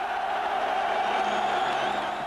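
Dense crowd roar at Parc Astrid during a Molenbeek football win, a steady wash of cheering and booing voices throughout, loud and sustained with no clear breaks.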